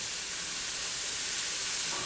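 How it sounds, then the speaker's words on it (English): Ginger, garlic and vegetables sautéing in a nonstick pan give off a steady, even sizzle and hiss, close and constant with no pauses or talk. "get that mixed in with the vegetables while the vegetables are getting all sauteed"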